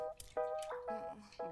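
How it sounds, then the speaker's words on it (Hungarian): Water drips from a leaking ceiling indoors, a few distinct plinking drops in an irregular rhythm, fairly close and clear, with no talking. "Beázik a plafon."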